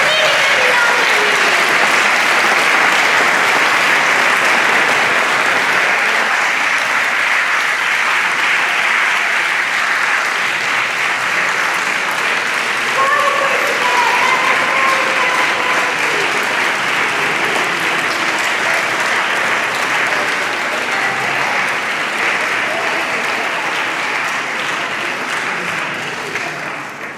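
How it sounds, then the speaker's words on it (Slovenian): An audience claps steadily and loudly throughout a children's choir concert, dense sustained applause that tapers slightly near the end. "Zaploskajmo jim!"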